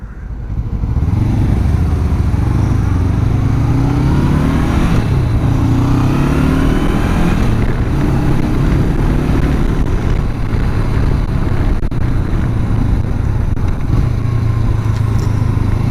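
A Honda CB500X motorcycle heard while riding, its engine droning loudly and continuously with rising and falling pitch through gear shifts, mixed with steady wind rush.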